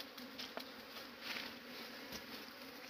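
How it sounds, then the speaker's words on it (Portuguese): Honeybees being taken out of a wild hive make a dense, continuous buzz close by, with individual bees zipping past now and then. "ele tá retirando as abelhas aí, né?"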